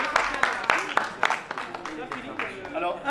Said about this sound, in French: Voilà une nouvelle candidate, attention, sous vos applaudissements.